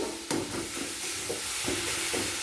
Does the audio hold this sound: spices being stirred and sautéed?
yes